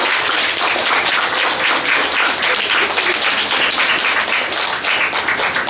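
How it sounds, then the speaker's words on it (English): Schoolgirls on a visit to a national chocolate museum and heritage complex applaud their teachers, a steady round of brisk clapping from a group of students, even and sustained without speech. "So give them a round of applause, please."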